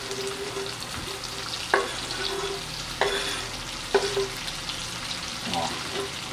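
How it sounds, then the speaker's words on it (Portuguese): Two large onions cut in big chunks fry in oil in a pan, a steady sizzle with a few sharp spoon knocks and stirring scrapes, close and fairly loud, no talking. "vou largar a cebola aqui, ó. Eu abri aqui, ó, pra ela fritar bem"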